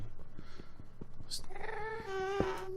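A cat meows close by, a drawn-out rising call, over soft rhythmic thumping in the background.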